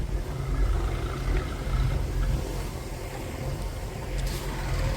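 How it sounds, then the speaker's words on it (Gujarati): A JCB and tractors loading cow manure on a Gir cattle farm: a steady, low diesel engine rumble drones for the whole stretch at moderate distance, with no voices over it. "અત્યારે ખાતર ભરવા માટે જીસીબી અને ટ્રેક્ટરો આવી ગયા છે"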